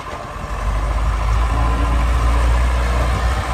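A 1998 Lull 844C-42 Highlander telehandler engine runs steadily close by, a continuous low diesel rumble with no pauses and no voices over it.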